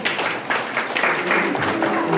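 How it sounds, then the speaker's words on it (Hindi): An audience claps together at a Jain Panchkalyanak religious ceremony in Ashok Vihar, producing a short burst of dense, steady applause with a voice talking over it. "तालियां बजा दो"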